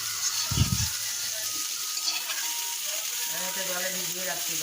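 Cauliflower frying in oil in a pan, a continuous soft sizzle with faint clatter and a brief low knock near the start, heard at moderate distance.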